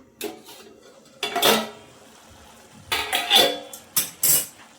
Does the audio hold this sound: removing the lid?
yes